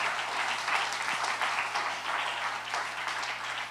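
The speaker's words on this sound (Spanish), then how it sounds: "Damos un aplauso al Señor." A church congregation applauds during a sermon, a steady, dense wash of clapping from many hands filling the room, fairly even and continuous, with no speech over it.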